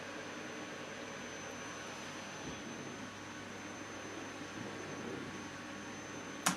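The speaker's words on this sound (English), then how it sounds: "I should turn that fucking vacuum cleaner off" Vacuum cleaner droning steadily in another room, a continuous muffled broadband whir with a faint steady whine that holds evenly throughout, ending with a brief louder bump.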